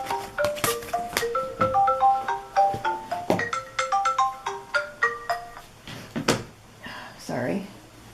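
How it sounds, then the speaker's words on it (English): A mobile phone plays a bright melodic ringtone, a repeating run of clear tones loud and close, while a person talks over it and something rustles near the end. "Oh, there goes my phone."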